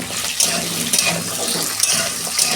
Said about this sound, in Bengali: পটল আলু আমি একসঙ্গেই ভেজে নেব।